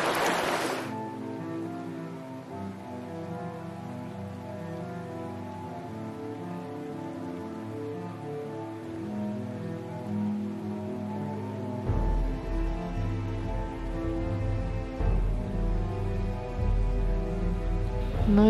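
A cold mountain river runs nearby in cool spring weather, a constant broad rushing wash that swells louder toward the end, with no voices.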